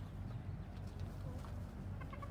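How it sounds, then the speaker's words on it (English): Chickens in a zoo chicken exhibit cluck quietly in the background, with a faint chirping bird near the end, over a low steady rumble. "What's your favorite part of taking care of these chickens, Ian?"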